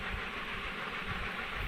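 A travelling train serves as a sound effect in a dramatized scene, an even, continuous rolling rumble at moderate volume with no voices.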